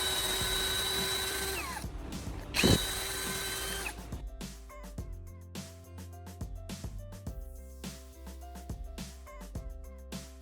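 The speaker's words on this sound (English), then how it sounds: "I drill a hole through a PVC pipe elbow to create a housing for the antenna rod." Power drill boring a hole through a PVC pipe elbow to make an antenna rod housing, a whining motor at first, then a brief sharp burst as the bit bites, followed by a series of stuttering mechanical pulses close to the microphone.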